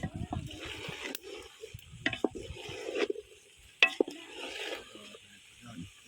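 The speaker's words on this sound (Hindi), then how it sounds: "अब हम इसे मिक्स कर देंगे।" Chicken pieces and chopped capsicum (shimla mirch) being stirred in a pan, with soft scraping, gentle sizzling and several sharp spoon clicks against the metal, fairly quiet and steady with no speech.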